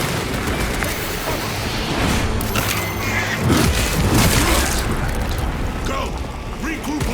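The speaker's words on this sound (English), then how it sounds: "Planting melter bomb." Melter bomb detonation in Space Marine 2 amid loud, dense battle noise, with a heavy boom swelling midway under constant gunfire and mechanical clatter.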